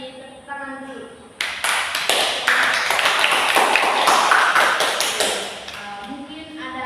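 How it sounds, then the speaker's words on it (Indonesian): A class breaks into a burst of applause lasting about four seconds, with close, lively clapping framed by brief voice sounds before and after. "Kita beri tepuk tangan dulu."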